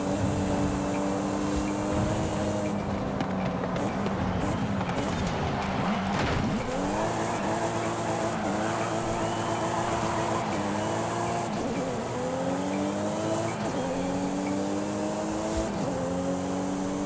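Race car in Forza Horizon 5 revs hard through repeated gear shifts, the engine note rising and dropping in cycles, with a sharp tire squeal midway, loud and close throughout.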